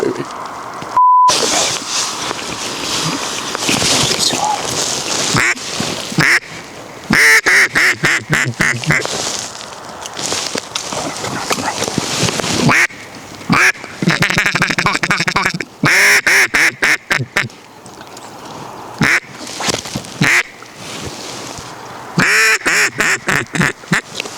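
Ducks quack loudly and repeatedly at a duck hunt, including mallards, in choppy bursts from calls or birds that fill most of the stretch, with a few brief pauses between volleys.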